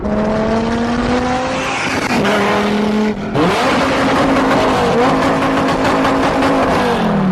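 Loud Pagani supercar engine revving hard nearby, a strong harmonic roar climbing through gear changes with a brief drop at a shift, sustained and close throughout.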